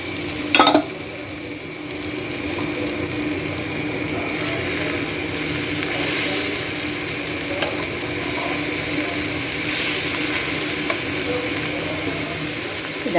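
Mushrooms fry in a covered pan over lowered gas, a steady soft sizzle with occasional stirring and a brief clatter near the start.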